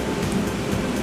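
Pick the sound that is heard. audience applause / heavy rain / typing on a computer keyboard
heavy rain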